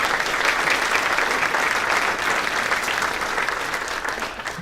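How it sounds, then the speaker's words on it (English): An audience applauds warmly, a thick continuous clatter of many hands clapping that holds steady for a few seconds and eases slightly. "I'd just like to give them a round of applause."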